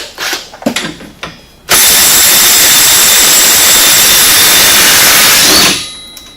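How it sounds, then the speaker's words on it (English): An impact wrench with a 27mm socket removing a Polaris RZR axle nut: a few clanks of fitting the tool, then a loud, steady, close buzzing burst of about four seconds that stops abruptly. "Now, I got a 27mm socket. Go ahead and pull off this axle nut."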